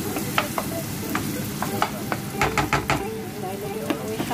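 Onion for sweet and sour chicken frying in a pan, a steady loud sizzle with scattered scraping stirs of a utensil against the pan, no talk over it.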